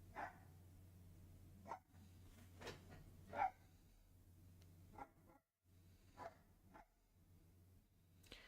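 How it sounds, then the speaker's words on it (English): A dog barking outside, heard indoors as a few scattered, fairly faint barks and yelps separated by pauses, over a low steady hum. "you guys can hear my dog going crazy right now outside"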